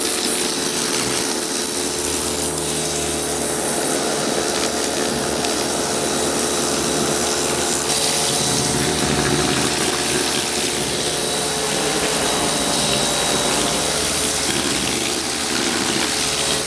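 A pressure washer blasts water and degreaser over a car engine bay, a loud unbroken roar of pump and spray holding steady throughout at close range, with no speech.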